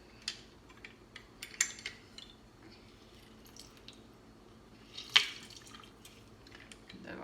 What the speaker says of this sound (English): Let's get one more lemon in the squeezer.